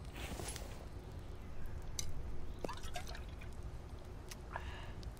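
Water being collected in the survival video game The Infected, a soft dripping and pouring trickle with a few small splashy bursts over a low steady background, fairly quiet and without talk.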